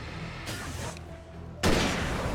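Hunting rifle shots in the video game Alan Wake, a couple of sharp loud reports with brief tails, the last one heaviest, against a dark game ambience.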